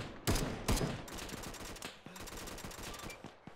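Gunfire in a military video game, with two loud heavy shots up front followed by dense, rapid automatic bursts rattling continuously at close range, no talk over it.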